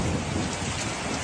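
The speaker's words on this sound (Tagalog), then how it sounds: "nakaranas ng hailstorm o yung pag-ulan ng yelo ang mga taga Bacoor, Cavite kahapon." Hailstorm over Bacoor, Cavite, with ice and rain pelting down in a dense, loud, continuous roar that fills the scene, no voices.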